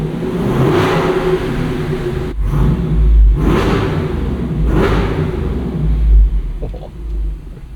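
Deep, loud rumble from a Jeep Wrangler 392 with its Hemi V8, revving in several strong surges with low booming peaks between steadier idling stretches.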